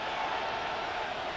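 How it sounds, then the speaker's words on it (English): A stadium crowd in a football video game swells into a steady, dense roar, fairly soft and continuous, with no distinct voices. "The crowd cranking it up another notch before 3rd and long."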